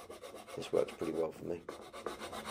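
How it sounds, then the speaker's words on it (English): A small sanding block with glued-on sandpaper is rubbed over wooden joints, making short rasping strokes close by while someone speaks over it. "I'm now going to go over these with a little sanding block"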